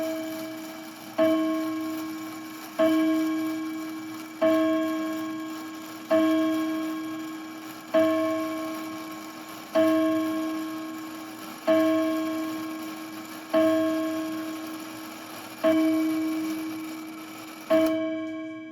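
Mantel chime of a Gilbert clock striking the half hour, a steady series of about ten clear, evenly spaced ringing strikes, each decaying before the next, heard alone.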